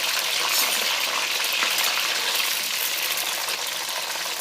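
Okra sizzling with mixed vegetables on a hot tawa, a dense, steady hiss of frying oil close up and without pause, no voices.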